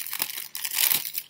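Cardboard shipping packaging for a SIM card being torn open and crumpled, a close, busy run of crinkling and ripping with short pauses and no talk.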